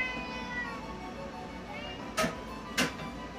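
A cat meows in a Japanese-modern style room at a shelter housing dozens of rescued cats. A thin, drawn-out meow is followed by two sharp clicks or taps over a quiet room hum.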